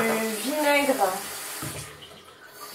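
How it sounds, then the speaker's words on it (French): Running tap water rinses hair, a close, steady rush of water that follows a brief voiced sound at the start and continues for the rest of the short moment. "Je rince."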